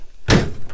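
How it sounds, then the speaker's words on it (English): A single solid thunk as an antique car's door, which doesn't shut all the way, slams nearby. "That door doesn't shut all the way."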